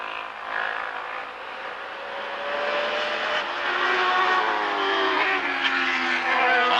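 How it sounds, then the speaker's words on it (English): A 2-liter Can-Am racing car engine revs and climbs in pitch as it accelerates at Lime Rock in 1985, heard from a moderate distance with no voices. "On the back section, Kroll's engine doesn't sound as crisp and clear as Miaskiewicz"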